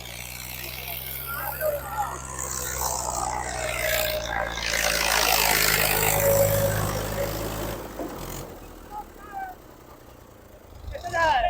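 A tractor engine roars under heavy load during a tractor pulling contest between an HP65 and an MF260, rising to a loud sustained drone midway before dropping off, with a voice speaking near the end.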